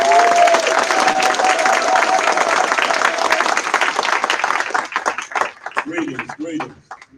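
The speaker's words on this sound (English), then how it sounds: "Please give him a rousing round of applause." An audience at a morning session of a 2018 conference in New Orleans gives a loud, sustained round of applause with a sustained tone under it, then the clapping thins out near the end as a voice starts.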